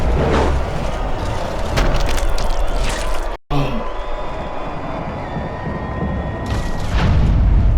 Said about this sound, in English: He went down from a big shot